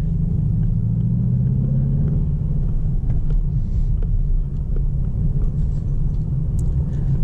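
A Mercedes-AMG GT 63 S cruises in comfort mode, heard as a steady, even low engine and road rumble that holds level throughout, with no voices.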